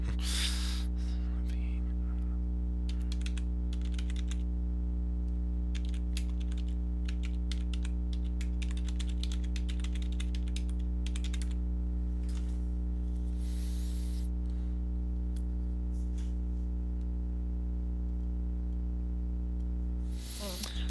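Someone types on a computer keyboard at a desk in bursts of rapid key clicks with short pauses, close and clear over a constant low electrical hum, with no speech.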